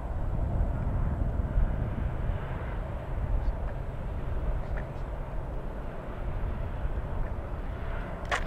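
An FMS Let 13 Blanik RC sailplane glides by at idle power, giving a steady, moderately loud airy whoosh of wind and faint motor hum with no voices.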